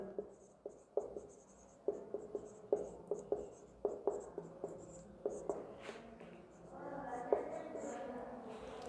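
Chalk or marker tapping and scratching on a board as a physics teacher writes units of capacitance, a series of short sharp strokes in uneven rhythm, close and distinct, ending in a longer scrawl.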